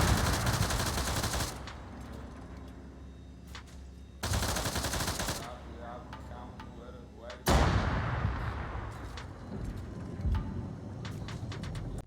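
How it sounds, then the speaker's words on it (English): A tank firing high explosive rounds in the video game Arma, heard as heavy booming shots at intervals, each followed by a rumbling roll and scattered crackling, with faint gunfire and voices in the background. "I love the look of high explosive rounds from a tank."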